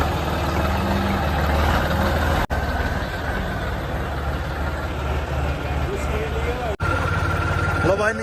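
A Tochan King tractor engine runs in a steady, loud low rumble that continues without a break from start to finish, with people talking over it.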